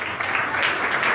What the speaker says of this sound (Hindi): इनके लिए एक बार जोरदार तालियां बजा दीजिए